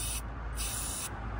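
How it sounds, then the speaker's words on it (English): Normfest DPF cleaner sprayed in two steady bursts into the diesel particulate filter of a VW 2.0 TDI Golf, a close, hissing aerosol spray starting and stopping with a brief pause between, no talking. "I just need to keep on spraying that in bursts"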